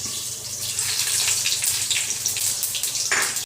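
Bay leaves, dried chillies and five-spice seeds sizzle in hot oil left from frying fish, a loud, continuous crackling hiss heard close up with small popping bursts throughout.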